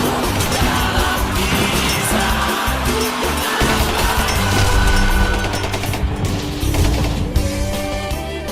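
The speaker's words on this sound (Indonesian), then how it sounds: "Suara tembakan" Dense, continuous rattle of gunfire and crashing blasts from an animated battle between Balinese fighters and Dutch troops in the Puputan Badung war, loud and chaotic throughout.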